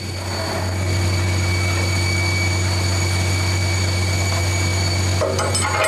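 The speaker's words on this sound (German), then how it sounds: "Der Flugzeugschlepper fährt schon einmal in Position." An aircraft tug moves into position at a Boeing 747 cargo freighter before a night flight, giving a loud, steady engine drone with a constant tonal hum that shifts slightly near the end.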